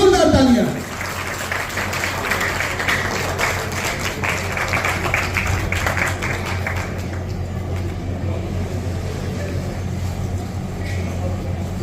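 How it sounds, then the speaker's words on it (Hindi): Applause for Rakesh Garg at a marriage-introduction booklet launch event, a dense crowd clapping steadily for several seconds, then thinning into a quieter spatter under a low background hum. "ऐसे राकेश गर्ग जी के लिए जोरदार तालियां।"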